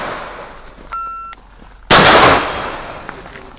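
A single sharp, loud gunshot on a shooting course rings out close by and fades quickly, shortly after a brief electronic beep.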